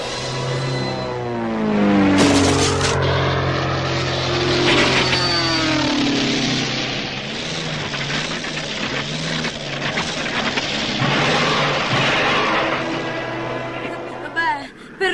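Cartoon aircraft engines strain for more power with a loud droning whine that swoops up and down in pitch, running under urgent voices.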